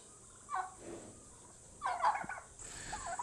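Several turkeys gobble nearby in a pasture by the woods, in two or three loud bursts with quieter clucking between them and no talking.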